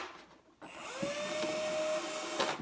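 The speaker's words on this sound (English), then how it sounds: "drill some holes in the bottoms, and for a gallon jug I recommend 4 holes in the bottom and 4 in the side" A power drill bores holes through the bottom of a plastic gallon jug: a steady, rising whine runs for about two seconds after a short quiet start, close and fairly loud, with no talking.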